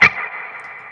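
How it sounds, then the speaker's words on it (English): A single plucked guitar note struck sharply, then a long washy reverb tail that rings on and fades slowly. "So if I like play it with a pretty long reverb tail,"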